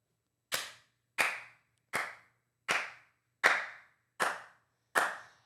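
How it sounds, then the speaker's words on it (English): Seven sharp hand claps ring out in a room, evenly spaced about two-thirds of a second apart, each crisp and fairly loud with a short decay, and no talking in between. "Can we stop the clapping"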